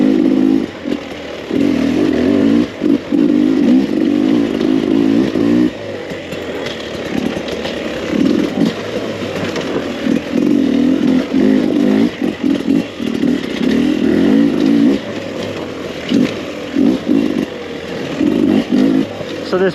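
A 2021 Beta 300RR oil-injected two-stroke dirt bike revs hard and loud while being ridden, its raspy engine climbing and dropping in repeated bursts as the throttle opens and closes, with brief lulls between pulls.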